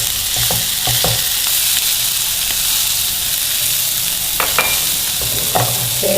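Chicken and vegetables with capsicum stirred and frying in a pan for a pizza naan filling, a loud continuous sizzle with scraping spoon strokes at irregular intervals.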